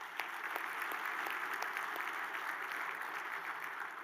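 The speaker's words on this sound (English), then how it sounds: "Let's give them a round of applause." Audience applause fills a large banquet room at a chamber of commerce annual meeting luncheon, a steady wash of many hands clapping at moderate distance, sustained throughout with no voices over it.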